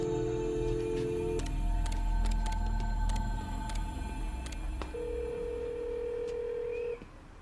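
An unanswered telephone call plays out as long electronic tones with a pause between them, over a low background rumble, cutting off near the end.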